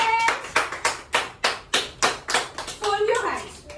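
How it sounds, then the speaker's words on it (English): Children clap their hands together in a play group class, about a dozen sharp, evenly spaced claps in a steady rhythm, close and clear, with a voice briefly audible near the end. "Okay, now clap your hands."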